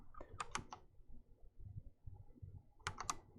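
Two short bursts of quick keystrokes rattle on a computer keyboard, the first near the start and the second near the end, with a quiet pause between them.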